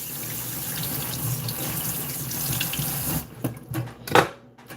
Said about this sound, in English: Wash this knife.